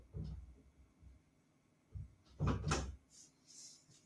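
A dog noses open a door at home, giving a few soft knocks and bumps followed by a louder rattling clunk of the door moving, quiet and close in an otherwise still room.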